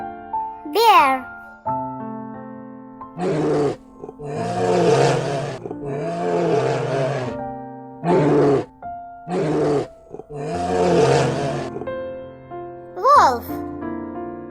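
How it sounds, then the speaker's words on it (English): A bear gives a series of deep, rough roars and grunts in separate bursts of varying length, loud and close, over a steady background of tonal music. "Bear."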